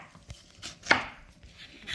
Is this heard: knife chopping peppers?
yes